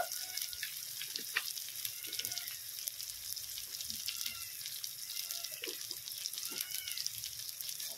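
Raw banana and potato pieces sizzle and crackle in a pan of hot oil, a steady, moderately quiet frying hiss with scattered small pops throughout.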